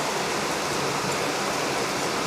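Heavy afternoon rain in Vietnam pours down as a dense, unbroken hiss that stays loud and even throughout, with no voices.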